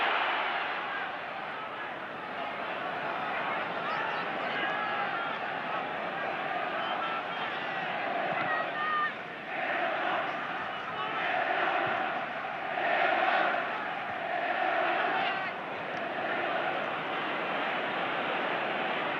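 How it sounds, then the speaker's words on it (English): A noisy football crowd roars through the 1969 FA Cup match between Leicester City and Manchester City, a steady loud stadium din that swells in waves beneath a commentator's continuous talk. "this crowd is so noisy, it's impossible for us to hear the referee's whistle"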